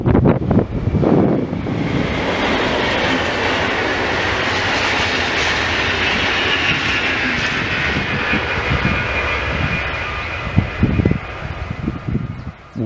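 A Flix passenger train rolls past with a loud, sustained rushing roar and a whining engine drone that holds steady for several seconds, then gives way to clattering bumps as it moves off.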